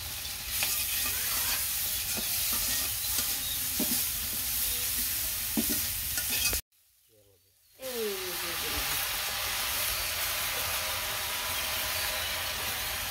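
Spices with turmeric and chili powder frying in a home kitchen pan, stirred with a steady broadband sizzle and scraping taps, broken by a brief near-silent gap midway before the frying noise resumes.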